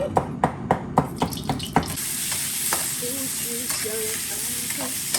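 Ingredients stir-fried in hot oil in a wok while cooking northern-style braised noodles: several quick metal spatula clanks come first, then a steady, close hissing sizzle takes over.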